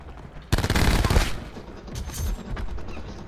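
A burst of gunfire in Black Ops 4 multiplayer hits loudly at once, then lighter shots and game noise rattle on behind it.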